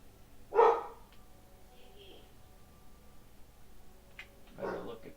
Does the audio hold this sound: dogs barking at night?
yes